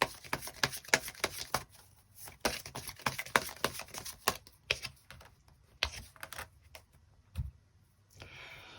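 Tarot cards are shuffled and drawn at close range, heard as quiet, irregular flicking and tapping clicks in short bursts with brief pauses and no talk.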